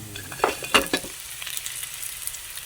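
Pork hock dropped into hot oil with browned garlic and onion for humba, giving a few sharp sizzling bursts that settle into a steady low frying hiss, close and alone.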